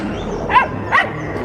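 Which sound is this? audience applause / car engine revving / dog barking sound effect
dog barking sound effect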